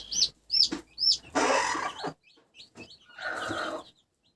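A brooding hen with her chicks, crested chicks and guinea keets among them, gives repeated close clucks and chirps in short bursts with a rougher hen call in between, and no talk.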